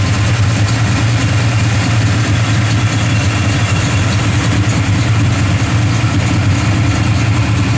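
A 1970 Dodge Dart Swinger's V8 engine idles with a deep, steady rumble, close and loud, holding an even throttle throughout.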